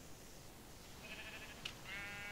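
Sheep bleating in the Minecraft video game, faint synthetic game calls repeating in a short series of bleats over a low background hum, with a brief sharp click between them.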